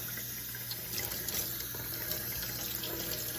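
Mulberries being rinsed under a running tap in a kitchen sink, a steady close hiss and splash of flowing water without pause and with no talk.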